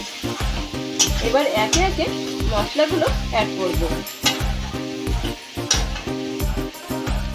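Young jackfruit and potato stir-fried in oil, with a steady sizzle and repeated scraping strokes of a spatula in the pan, while someone speaks over it.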